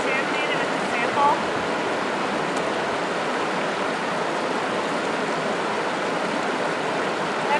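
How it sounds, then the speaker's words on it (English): A flowing field stream rushes in a steady, broadband wash while a water sample bottle is rinsed in it, the current loud and close throughout and briefly overlaid by faint voices. "So I'm just triple rinsing the bottle to kind of contaminate it with the sample."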